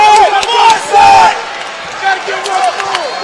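Home crowd at a 2019 MEAC college basketball game between Morgan State and Coppin State roars and cheers in a loud arena, rising in surges beneath a play-by-play commentator talking over it.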